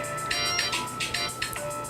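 Mobile phone ringtone repeating in quick, regular electronic pulses, moderately loud and close, with no talking over it.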